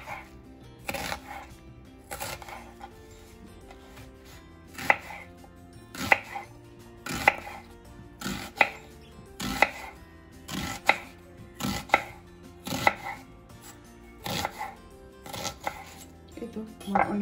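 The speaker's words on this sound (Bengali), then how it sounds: "এইতো আমার অনিয়ন কাটা হয়ে গেল।" Kitchen knife chopping onion into big pieces on a board, a steady series of sharp, close chops repeating about twice a second, clear and fairly loud.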